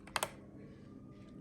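Keys on a blue- or red-switch gaming keyboard clack in a quick cluster of two or three crisp presses near the start, followed by quiet room tone.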